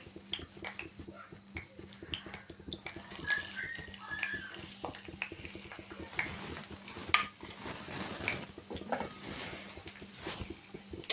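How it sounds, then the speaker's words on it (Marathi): Finely chopped garlic cloves fry in a pan, a soft, steady sizzle sitting under intermittent clinks and scrapes of a utensil against the pan, fairly quiet and close. "छानपैकी असा लसूण खरपूस होऊ द्यायचा आहे"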